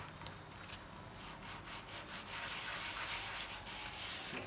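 Hand roughening a surface on a table with quick scraping, sanding-like strokes that grow denser and slightly louder toward the end, close with no talking.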